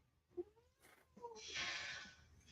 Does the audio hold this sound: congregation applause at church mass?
no